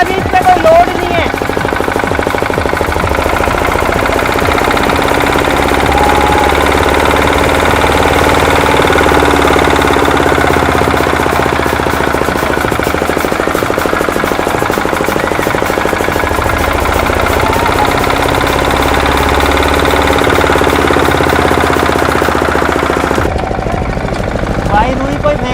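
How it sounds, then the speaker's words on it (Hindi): A diesel engine revs hard with no load, a loud, steady roar with a knocking, rattling edge that holds for most of the stretch, then drops away near the end. "भाई थोड़ी रेस मारते हैं क्योंकि अभी इस पे कोई लोड नहीं है।"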